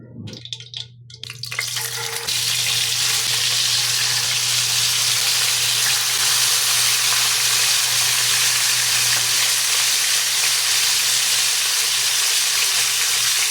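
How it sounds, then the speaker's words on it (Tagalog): Galunggong fish with salt pan-fries in hot oil, a loud, steady, dense sizzle that holds unbroken after a few brief clatters at the start. "And that frying sound is so satisfying."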